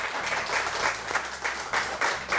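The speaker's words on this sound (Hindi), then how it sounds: "प्लीज तालियां हो जाए" A studio audience applauds the production crew on a morning talk show, steady clapping with rhythmic surges throughout, close and fairly loud.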